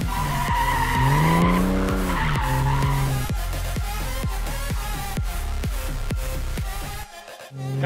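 A car slides sideways during drift training at a driving academy, with loud, sustained tire squeal rising and wavering over a steady engine drone, close and continuous, then cutting off near the end.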